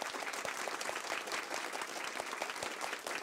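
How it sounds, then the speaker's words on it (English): A large audience at a women's community recognition breakfast gives a sustained, dense round of applause, steady and loud throughout with no speech over it. "Let's give them a big round of applause as they walk up the stage."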